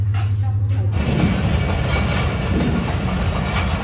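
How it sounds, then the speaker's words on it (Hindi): A train rolls past nearby at dusk near a village, its steady wheel clatter and rumble loud and continuous for several seconds after a brief quieter start. "देखें रेलगाड़ी जो है ना जा रही है असर के बाद"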